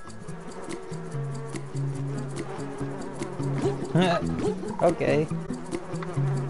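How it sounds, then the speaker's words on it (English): Buzzing bees in the video game Donut County, a steady insect drone over game music with pitch swells, while a person speaks briefly. "Sometimes you get hunted by bees."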